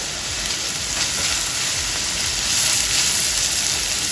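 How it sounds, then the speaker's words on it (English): Garlic hits a hot pan already cooking onion and peppers for baked ziti, giving a steady, close, broadband sizzle that holds evenly throughout with a slight swell toward the end and no talking. "now I'm going to add the garlic."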